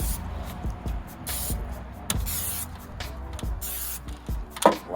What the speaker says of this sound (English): spray them down with a little bit of cooking oil so our seasonings will stick